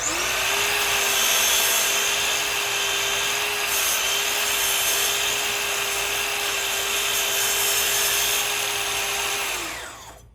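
A power saw cuts a wood miter in a workshop, a steady, loud, close whine holding for about ten seconds before winding down at the end.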